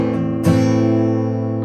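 Acoustic guitar hammer-on using the ring and middle fingers: a sustained chord, then a sharp strum-like attack about halfway through that rings on loudly and steadily with no talking.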